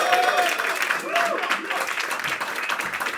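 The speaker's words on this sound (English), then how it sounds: "Give a hand to the very funny Chris Crespo" Audience at a New York comedy roast battle show clapping and applauding, a dense sustained patter of many hands filling the room, with a voice faintly audible beneath.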